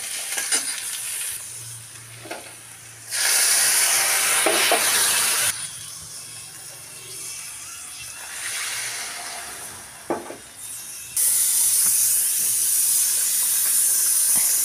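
Vegetables cook in hot oil in a frying pan, giving bursts of loud hissing sizzle that rise and fall, with quieter stirring scrapes between the louder spells.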